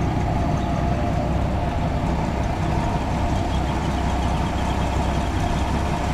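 A Rastrojero truck engine runs steadily at idle nearby, a continuous low rumble with no voices over it.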